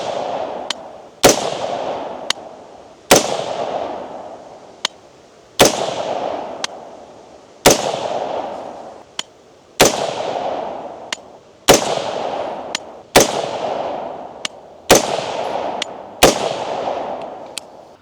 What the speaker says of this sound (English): Let's put another 10 rounds through it.